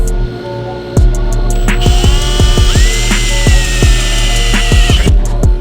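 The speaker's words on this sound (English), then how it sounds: "we have to drill some holes up here" A power drill bores holes into the roof of a bus, a close, loud whine that rises in pitch as it spins up and holds under load, with sharp clicks and knocks from the drill at the start and end.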